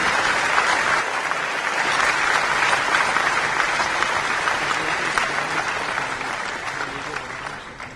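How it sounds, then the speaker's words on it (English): A large audience at a book release event breaks into sustained, steady applause, loud and dense throughout, tapering off only in the final second. "they deserve a big round of applause for this superb presentation"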